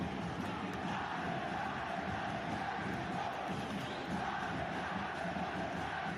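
New Mexico United supporters roar and chant after a goal in a U.S. Open Cup quarter-final against LAFC, a dense, continuous crowd noise filling the stadium, heard from a distance at steady level.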